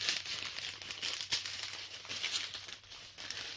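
Small plastic bags of diamond art drills being handled and repacked, giving a close, continuous crinkling and rustling for a few seconds with no talk.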